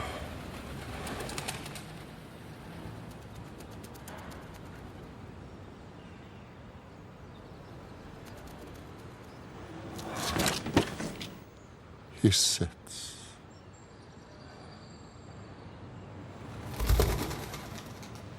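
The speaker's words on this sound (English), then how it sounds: "An erupting pigeon briefly interrupts, otherwise silence." A pigeon in an old building erupts in brief wing flaps and coos, a few sharp bursts breaking long near-silence, with a voice speaking briefly.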